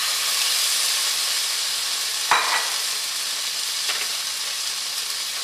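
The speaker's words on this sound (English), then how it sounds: "That's the sound you wanna hear when you're searing something" Miso maple glazed salmon sears in a hot pan with a loud, steady, hissing sizzle, broken by a sharp scrape or two as the fish is handled. No one talks.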